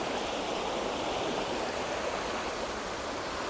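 Steady river water rushes and burbles close by on a fly-fishing stretch, a continuous broadband flow with no pauses and no voices.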